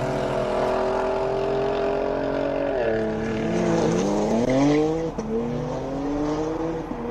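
A race car without launch control pulls away at the Simola Hillclimb 2025 finals, its engine a loud, sustained roar that climbs and shifts in pitch through the gears.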